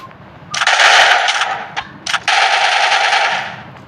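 In a shooting video game, loud rapid machine-gun bursts rattle out, a first long volley then a short stutter and a second sustained burst, with faint quiet moments between.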